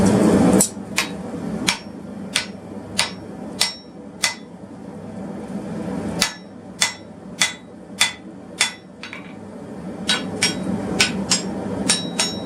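A forged hardy tool is hammered down into an anvil's hardy hole with steady, ringing metallic blows, about twenty evenly spaced strikes, close and loud with no talking.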